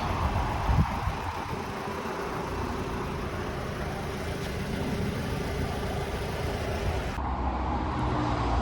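A 2.0 TFSI EA113 engine in a Mk2 Audi TT, just back on its wheels with new drive shafts, idles and drives for the first time, giving a steady mid-pitched engine hum with no voices.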